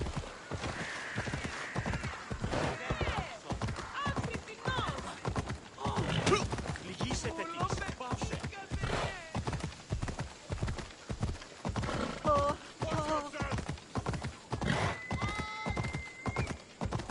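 A horse gallops in the video game Assassin's Creed Odyssey, with a fast, steady clip-clop of hooves close by, broken by occasional whinnies and a faint voice over it.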